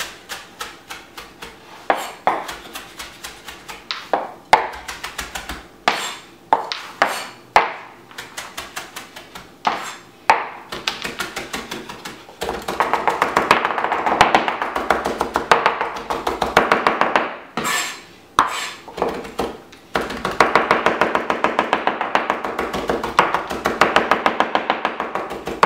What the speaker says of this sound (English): Fine mince on the cilantro.